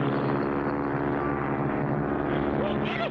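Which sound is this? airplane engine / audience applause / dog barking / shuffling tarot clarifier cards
airplane engine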